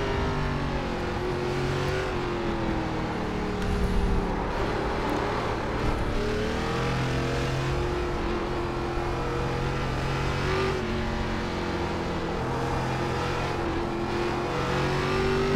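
An ARCA race car engine in the iRacing sim at the Charlotte Roval drones loudly and steadily throughout, with rising and falling revs through corners and no talking.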